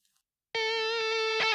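A sustained electric guitar note rings out after brief silence, thick with echoing repeats from a long half-note delay with heavy feedback and a wide, lingering plate reverb tail.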